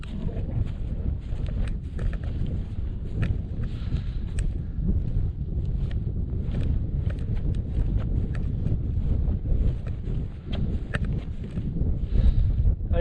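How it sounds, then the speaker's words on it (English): Chilly wind gusting steadily across a Scottish mountain summit camp on Beinn Bheula at sunset, a continuous low buffeting rumble against the microphone with occasional sharper flutters, loud and close throughout. "Wee chilly wind, but it's still lovely."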